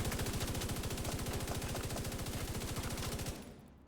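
MG5 machine gun in The Division 2 fired in one long, sustained automatic burst of rapid evenly spaced shots, loud and close, cutting off abruptly near the end; no talking.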